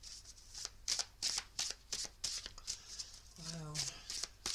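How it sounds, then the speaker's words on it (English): Tarot cards being shuffled by hand in a series of quick, crisp riffling bursts at a steady rhythm, close and quiet, with a short spoken exclamation near the end. "I'm just going to give these another shuffle"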